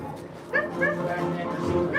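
Several dogs bark, yip and whimper close by in a short excited burst, with people talking over them, at an indoor attraction at Universal Studios Hollywood.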